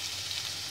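Onions and green chillies frying in a pan for vegetable poha, giving a brief, steady hiss of sizzling oil at low volume.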